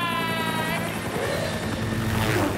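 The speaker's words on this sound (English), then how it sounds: "Except maybe Buttsquat in a helicopter with a tennis ball gun" Cartoon helicopter from a Halloween kids' show, a steady loud whirring buzz with rotor chop running throughout, briefly under a high-pitched tone at the start.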